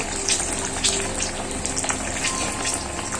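Chilli bajji in wheat-flour batter frying in hot oil makes a steady, dense sizzle with crackling bubbles throughout, close and even, with no talking.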